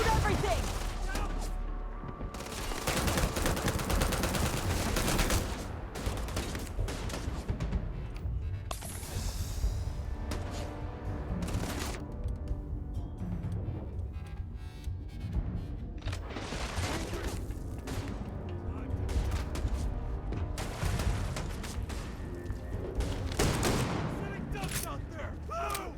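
Rapid bursts of gunfire and heavy booms from combat in the video game Starfield, loud and continuous, with a person talking over the shooting throughout.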